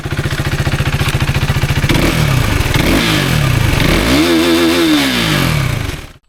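A KTM RC 390 motorcycle engine runs loud and close, pulsing rapidly at first, then revving up and down in sweeping rises before cutting off abruptly at the end.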